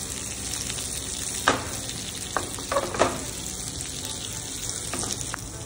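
Pomfret fish fries in a pan with a steady, bright sizzle, broken by a few sharp clinks and brief clatters.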